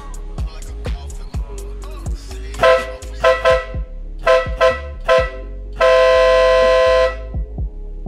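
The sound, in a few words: ship air horn on a motorcycle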